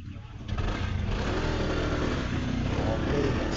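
A hot motorcycle engine runs close by on a road trip in Batangas, a dense continuous rumble that steps up in loudness early on and holds steady under faint background noise.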